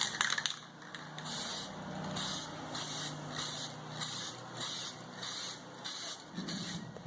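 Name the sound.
spray paint can spraying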